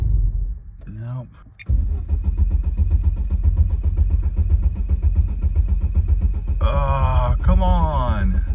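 Turbocharged Chevy Cruze engine struggling to idle, a loud close rough rumble with an uneven lumpy pulse, as a man groans and mutters over it at the start and end.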